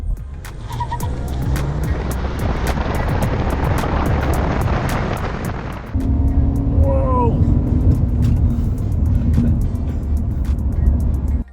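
An Acura TL car accelerating hard on a road during a timed run, its engine roaring loud and close, with a brief gear-change dip midway before the drone rises again.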